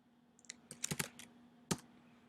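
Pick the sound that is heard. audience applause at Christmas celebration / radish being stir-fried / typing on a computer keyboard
typing on a computer keyboard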